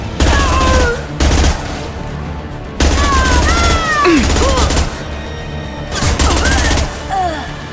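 Rapid bursts of gunfire from the video game Mass Effect 2 rattle in several loud volleys, mixed with shrill game effects and short gaps between bursts.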